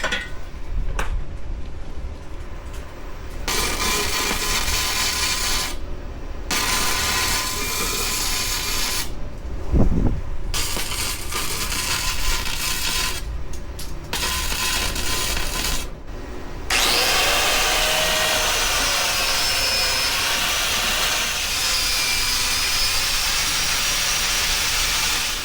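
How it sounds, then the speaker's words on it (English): A handle is welded onto a metal shear in repeated bursts of loud, steady crackling buzz separated by brief pauses, then one long continuous weld toward the end, close-up with no speech. "it's welded on there for good or bad"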